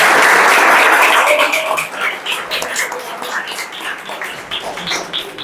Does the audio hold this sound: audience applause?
yes